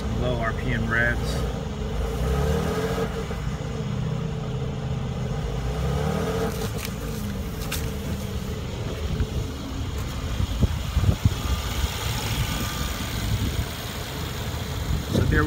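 A 2017 Mercedes-AMG C43 Coupe's 3-liter V6 bi-turbo engine held at raised revs, a continuous close, droning engine note with a few short bursts toward the end.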